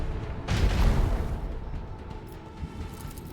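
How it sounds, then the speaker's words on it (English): A volley of macro cannons fires in the space-combat game Warhammer 40K: Rogue Trader. A deep, heavy boom swells and then rumbles away into a lingering low tail, with no speech over it. "Macro cannons volley."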